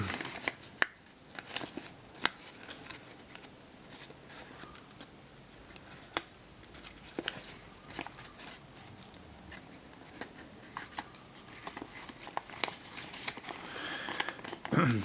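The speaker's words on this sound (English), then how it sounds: "So you want to undo these all the way and fold them out to the sides." Stiff origami paper crinkles and rustles as the folded flaps of a paper flying squirrel model are opened out to the sides, with scattered sharp crackles and soft shuffling throughout, close up and fairly quiet, with no talking.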